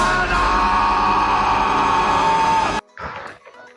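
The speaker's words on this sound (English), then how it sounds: "There's somebody screaming in the background." A person screams outdoors, a strained, sustained yell that holds loud for nearly three seconds before breaking off abruptly, followed by a short, fainter vocal burst.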